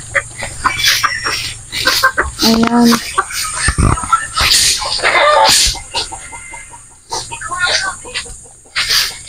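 Chickens cluck and squawk in bursts close by, with sharp flaps and clatter mixed in, while people talk in the background at a house repair site.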